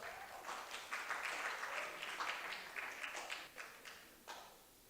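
A church congregation applauding after three violinists played, a soft, fairly distant patter of many hands clapping that swells and then thins out toward the end.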